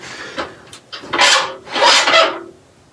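A wood-turning gouge scrapes and cuts timber on a lathe while shaping a toffee dish, a few short rasps followed by two longer, louder rushing cuts, close and alone.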